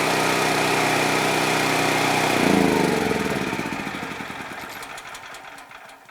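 A Westinghouse WGen9500 portable heavy-duty gasoline generator runs with a loud, steady engine drone close by, then winds down over several seconds into slowing, uneven chugs as it shuts off.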